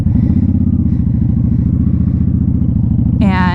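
Honda Shadow Spirit 750 motorcycle cruising at steady speed, with a loud, continuous low engine drone and rhythmic exhaust pulse close to the microphone, joined near the end by a brief higher whine.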